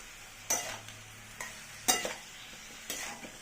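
Vegetables for shukto are stirred in a pan, with a few distinct scraping strokes of a spoon over a soft background sizzle, quiet and close, spaced about a second apart.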